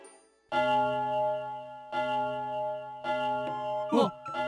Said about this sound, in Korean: 종이다! 종이 울린다.